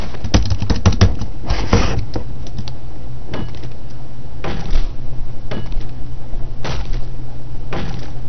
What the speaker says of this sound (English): God damn you stupid keyboard.